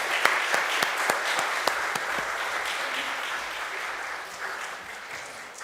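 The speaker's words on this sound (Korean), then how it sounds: "우리 다 같이 박수하겠습니다." Congregation applause during a Korean Sunday church service, a full, continuous wash of many hands clapping with some crisp individual claps at the start, holding steady then gradually softening.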